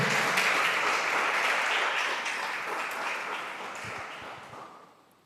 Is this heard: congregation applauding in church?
yes